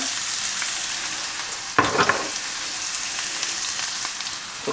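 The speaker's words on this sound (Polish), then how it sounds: "smażamy cebulę wraz z selerem" Onion and celery frying in hot fat in a pan for Polish żurek soup, a steady moderate sizzle that keeps going throughout, with a brief louder burst of crackling about halfway through and no talking.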